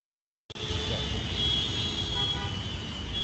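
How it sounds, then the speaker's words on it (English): Street traffic noise begins abruptly and holds steady, with a sustained car horn tone running beneath the roar of passing vehicles. "There's no reason to honk."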